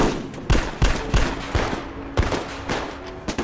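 Bursts of gunfire, sharp loud shots in irregular clusters, some in quick succession, over a noisy background.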